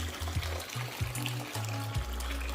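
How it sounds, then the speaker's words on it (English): Warm water is poured into a basin for a foot soak, a close, steady splashing and gurgling with pitch shifting as the level rises. "Add warm water. You can mix it with cold water."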